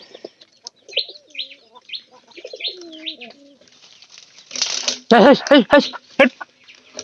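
Pigeons coo in soft, repeated rolling calls, joined by brief chirps and a louder burst of wing flapping and fluttering near the end, close by with no talking.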